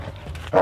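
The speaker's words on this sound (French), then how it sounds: "Ah, le chien que t'as dans les mains" A dog gives a short, close bark that bursts out at the end, after a stretch of low background rumble with no talk.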